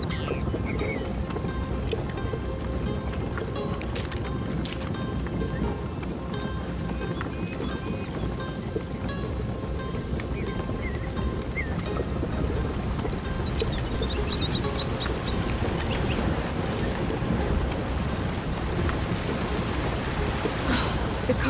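A strong river current rushes steadily in A Plague Tale: Innocence, a loud, continuous broadband roar of churning water, close and unbroken throughout.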